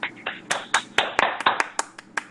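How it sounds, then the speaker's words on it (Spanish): Hands clap in a quick, uneven burst of about a dozen sharp claps, close and fairly loud, with no talking. "¡Aplauso!"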